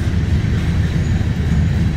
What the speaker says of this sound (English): Empty coal train, sounds like, looks like.